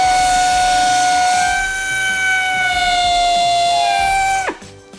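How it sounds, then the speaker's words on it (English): A small belt sander fitted with 120-grit paper runs on the rusty roof of a Ford Highboy truck with a loud, high whine, then its pitch drops sharply as it winds down and stops. "this little belt sander with 120 grit on it"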